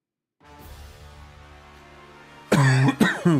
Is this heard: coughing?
yes